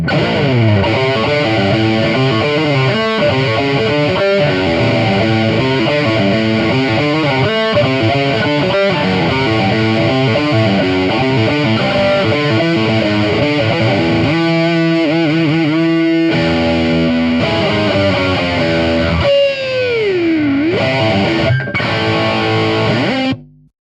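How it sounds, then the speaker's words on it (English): A heavily distorted electric guitar through a Marshall-style amp simulation from IK Multimedia AmpliTube plays a fast, saturated rock riff with sustained crunchy notes and a bending lead phrase near the end, loud and alone. "This is a great Marshall style saturated heavy rock tone."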